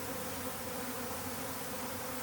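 Honeybees buzzing around a leaking sugar feeder: a continuous, even drone of many wings, moderately close and steady throughout, with no voices.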